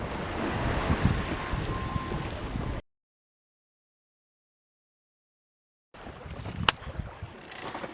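Wind and sea waves around a sailboat under way at sea, a steady rushing wash of wind and water near the microphone, cut by a few seconds of silence before resuming with a brief sharp knock.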